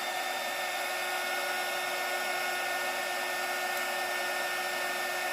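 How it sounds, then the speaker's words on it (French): A heat gun blows hot air with a constant loud whoosh and a steady whine that stays even and unbroken from start to finish. "Et la technique, c'est le heat gun."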